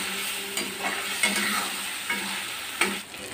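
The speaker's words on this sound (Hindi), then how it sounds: "मसालों को तेल छोड़ने तक बहुत बढ़िया से भूनेंगे" Ground spices frying in oil in a kadhai for a ridge gourd curry: a steady hiss of sizzling oil with occasional scraping stirs against the metal.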